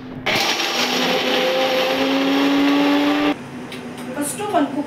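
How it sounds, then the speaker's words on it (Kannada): A mixer grinder whirs loudly as it grinds ginger, green chilli and garlic in a small jar, running steadily for about three seconds before cutting off abruptly, followed by faint rattling and handling noises. "ಇಷ್ಟನ್ನು ಪೂರ್ತಿ ರುಬ್ಕೋತೀನಿ."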